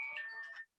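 A mobile phone ringtone sounds briefly during a press conference, a short bright melodic chirp that cuts off abruptly.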